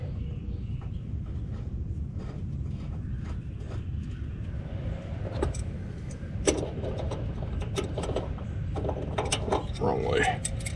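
An adjustable wrench clicks and ratchets while installing an air ride fitting outdoors, with scattered metallic taps and clanks over steady background rumble.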